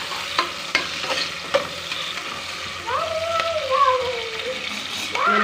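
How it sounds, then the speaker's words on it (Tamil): Green chillies, dried red chillies and curry leaves frying for vegetable biryani are stirred in a pan, with a crackling sizzle and a few sharp utensil taps close by, partly under a speaking voice. "அதையும் சேர்த்துக்கலாம். நல்லா கலந்து விட்டுக்கலாம்."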